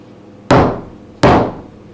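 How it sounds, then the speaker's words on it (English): A wooden mallet gives a chisel two light taps while cutting a buttonhole in hand-sewn fabric, each a sharp, close knock ringing out briefly, spaced about three-quarters of a second apart. "I'm going to use the mallet and just give it a light tap like this"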